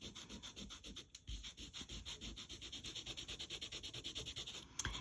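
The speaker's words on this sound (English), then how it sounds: "Now you're breaking the fibres of the card when you apply this sand eraser on" A sand eraser scrubs steadily back and forth across inked card, producing a close, continuous gritty rubbing in quick regular strokes that ends with a brief knock.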